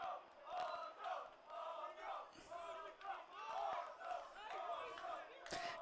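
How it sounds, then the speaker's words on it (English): A crowd at an amateur soccer match at Lawson Field roars and chants in sustained, rising and falling waves of voices, distant and continuous, with a few sharper shouts and whistles. "crowd here at Lawson Field is all fired up"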